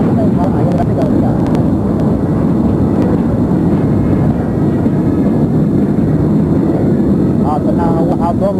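Somali Army military aircraft from the 1980s give a continuous loud engine roar throughout, with a narrating voice over it.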